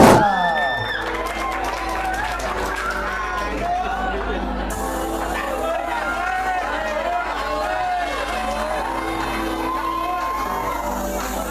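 A large school audience at a student art show erupts in loud, sustained applause mixed with shouts, whoops and cheering, a dense crowd roar that holds steady throughout.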